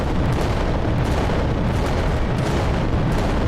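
Titan war machines fire heavy weapons in the Warhammer strategy game Adeptus Titanicus: Dominus, a continuous loud barrage of booming blasts and rumbling explosions with no pause.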